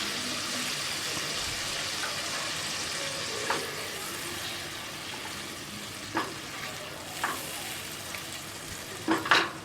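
Sizzling in a pan as fried potatoes are stirred into a Bengali hilsa fish curry with eggplant, a constant frying hiss punctuated by several close scraping clinks of a spatula, with no talking.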